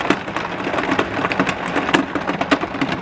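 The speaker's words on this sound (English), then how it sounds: "I want to make this video, but it's really raining" Steady rain patters densely on a hard surface, with a constant wash of drops and scattered sharper taps throughout.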